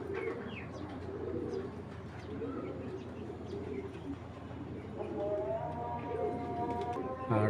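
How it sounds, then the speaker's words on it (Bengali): Soft, low racing pigeon coos repeat through steady background noise, with brief higher chirps and a person talking faintly nearby. "খুব সুন্দর একটা কবুতর দেখেন"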